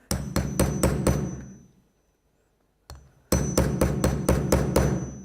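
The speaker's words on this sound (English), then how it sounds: "then use your hammer. So it's going to make a few bangs." A hammer strikes a metal piece in two quick bursts of about five sharp, ringing bangs each, separated by a short quiet gap, loud and close with no talk.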